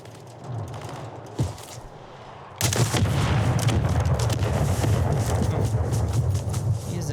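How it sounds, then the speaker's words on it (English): Mortar strike explosions in a video game hit with a sudden heavy boom followed by a sustained, loud roaring rumble, after a quieter stretch of low ambience and a single thud. "Mortar strike inbound."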